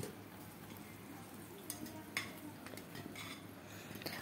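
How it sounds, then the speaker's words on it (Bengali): Four pieces of potato, seasoned with salt and turmeric, fry in hot mustard oil in a wok with a soft, steady sizzle. Quiet utensil clinks and stirring scrapes sound close by. "এখন তেলটা গরম করে 4 পিস আলু নুন আর হলুদ দিয়ে লাল লাল করে ভেজে তুলে রাখবো"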